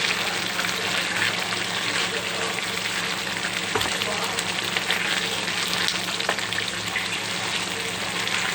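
Chicken sizzles steadily in hot oil in a pan after ground cumin, coriander, sugar and chili powder are added, a loud, even, unbroken frying hiss that runs throughout.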